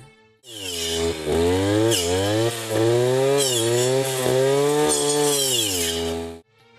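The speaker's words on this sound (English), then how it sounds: "Weeder is being used by attaching this special circular blade for this purpose." Petrol weeder fitted with a special circular blade pruning mulberry plants, a loud, continuous high-revving engine whine with rising and falling pitch as the blade cuts, close and steady for several seconds.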